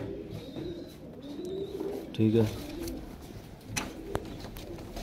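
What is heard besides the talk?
breeder pigeons cooing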